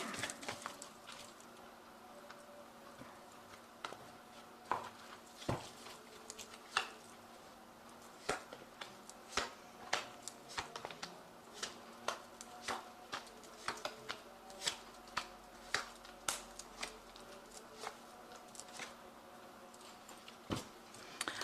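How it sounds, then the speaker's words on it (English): Ramses Tarot cards are drawn and shuffled by hand, giving quick, light slaps and papery riffles that come in irregular bursts, close and fairly soft against a quiet room. "Now I'm going to just draw some cards from the Ramses Tarot."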